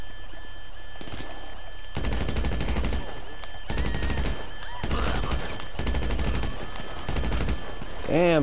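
Bursts of automatic gunfire in Grand Theft Auto Online during a stash house mission, several loud rapid volleys separated by short pauses, with a brief voice near the end.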